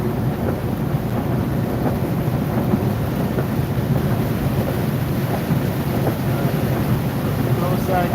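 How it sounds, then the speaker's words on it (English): Heavy rain pounds a moving car on the highway near I-10 between Valdosta, Georgia and Louisiana during a storm, a dense constant roar with low rumbling under it, loud and steady throughout. "The closer I get, the more the rain is coming down."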